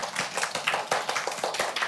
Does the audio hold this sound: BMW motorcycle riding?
no